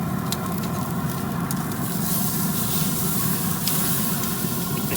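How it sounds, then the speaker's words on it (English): A steak searing on a pellet grill running above 600F gives off a steady loud sizzle and hiss with crackling pops, continuous and close, with no talking. "Let's give the steak a little turn."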